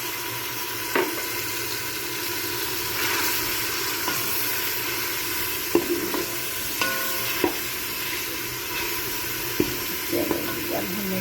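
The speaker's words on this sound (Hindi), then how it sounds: "अब हम इसमें थोड़ा सा पानी ऐड करेंगे।" Browned onions sizzle in hot oil after a little water is added for wheat daliya, giving a loud, steady hiss throughout, with occasional clinks and scrapes from stirring.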